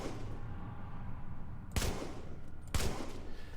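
An M60 light machine gun fires two single shots in The Division, about a second apart, each a punchy close crack over steady ambient game noise.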